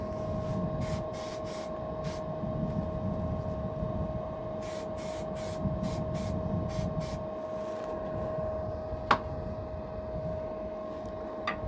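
Several short hissing bursts from an aerosol can of silicone lubricant spray in quick clusters, over a faint steady hum, with a single sharp click later.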